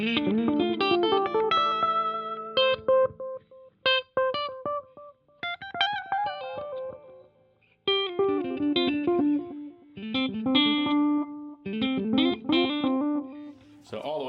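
Electric guitar phrases ring out with delay repeats trailing each note, effected and slightly distorted, played alone with short pauses between phrases.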